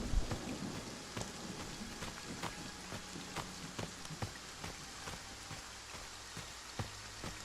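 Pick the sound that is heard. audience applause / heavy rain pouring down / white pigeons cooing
heavy rain pouring down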